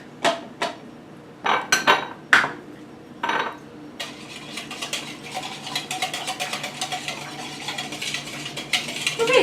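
A whisk in a bowl of pumpkin walnut cake batter: a few separate clinks against the bowl first, then a fast, continuous run of rhythmic ticking strokes, close up.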